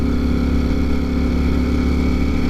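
Ducati Streetfighter V4S motorcycle engine running steadily at night, a loud, close, even drone throughout.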